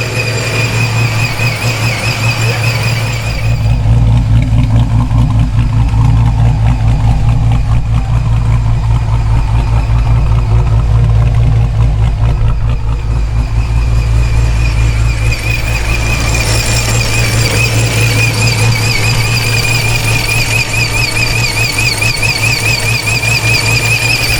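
A Dodge Charger Scat Pack with an HP90 swap and F1A94 Procharger runs loud and close, a dense continuous engine roar with a high, steady supercharger whine that rises slightly mid-run.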